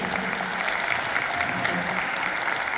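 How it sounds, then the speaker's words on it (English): Steady audience applause fills a hall at a student services awards ceremony, a dense, even wash of clapping at moderate volume with no pauses throughout. "A round of applause to them."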